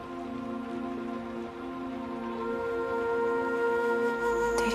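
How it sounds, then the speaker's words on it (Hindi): Rain falls steadily in a soft constant wash, with a sustained musical drone layered over it and no talking. "इस बारिश से बहुत डर लग रहा है फाती।"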